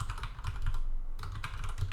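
Code being typed on a computer keyboard, rapid close clicky keystrokes in quick uneven bursts with a brief pause midway, no talk.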